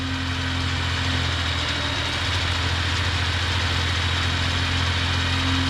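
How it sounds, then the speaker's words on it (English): A Suzuki mini truck engine running at cold idle gives a steady low rumble with a constant hum, close and even throughout with no talk. "Cold idle is now kicked in."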